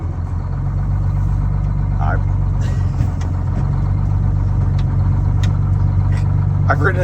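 An old International cabover truck engine idles and runs with a steady low rumble close by, loud and continuous, while people talk over it.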